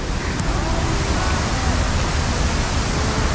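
A wide waterfall in the Philippines pours in a dense, continuous roar of falling water, loud and close, with no break throughout.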